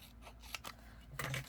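Scissors snip a paint chip paper card in a few quick, faint, close cuts, with a short crisp burst near the end.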